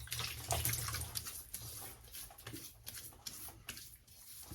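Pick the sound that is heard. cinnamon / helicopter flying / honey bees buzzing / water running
water running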